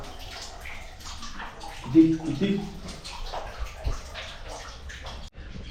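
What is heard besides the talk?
water pouring into a stone tank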